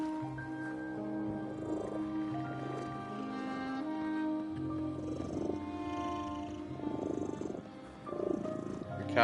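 A cat in the video game The Midnight Walk purrs close and steady in rhythmic rumbling waves over a low hum, rising louder near the end, with no voices.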